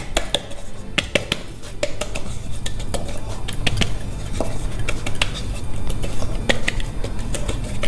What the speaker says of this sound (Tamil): இப்போ மைதா போட்டுட்டு டஸ்ட் பண்ணிக்க